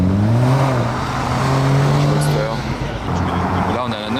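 A Porsche 911 Turbo of the 991 generation driving past on a Paris street, its engine giving a steady loud drone that rises and falls, with people talking over it.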